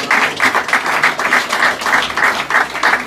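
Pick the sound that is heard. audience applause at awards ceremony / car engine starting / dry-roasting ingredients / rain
audience applause at awards ceremony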